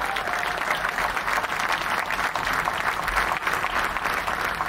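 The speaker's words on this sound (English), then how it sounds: "let's give a round of applause for the ground and the air crew" Outdoor crowd at a 101st Airborne Division change of command ceremony applauds the ground and air crew, steady continuous clapping from many hands at moderate distance, unbroken by speech.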